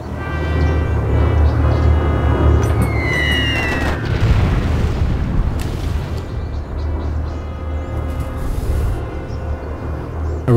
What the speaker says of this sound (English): Now I can bomb.